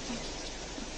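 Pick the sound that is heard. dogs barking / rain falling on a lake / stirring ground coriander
rain falling on a lake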